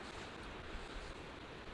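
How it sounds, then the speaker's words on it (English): Rain drumming on a tent fly during a wet rafting and hunting trip in New Zealand, a dense, steady hiss with no voices and no breaks. "Just the sound of rain hitting the fly."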